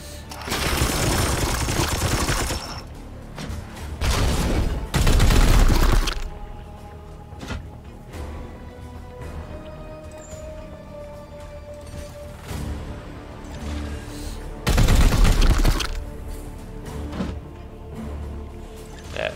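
In the Warhammer 40,000: Chaos Gate – Daemonhunters video game, loud bursts of gunfire and shattering impacts arrive in three separate volleys, with quieter ambient stretches between them.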